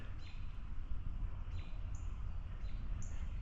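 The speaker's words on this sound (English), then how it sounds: "that's a cardinal, a native finch, the red bird with the crest" A northern cardinal, a red crested native finch, repeats clear, sharp, high chirps several times along a wooded park trail. The calls stand out faintly over steady background noise.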